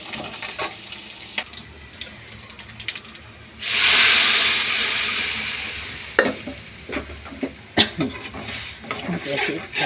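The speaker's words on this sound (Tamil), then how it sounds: "ரெண்டுத்தையும் போட்டு தாளிச்சிடுவோம்." Dried chillies and curry leaves drop into hot oil for tempering, giving a sudden loud sizzle that fades over a few seconds amid quieter clinks and stirring, with background sounds before and after.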